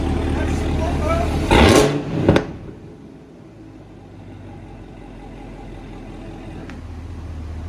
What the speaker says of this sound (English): see that Corsa exhaust?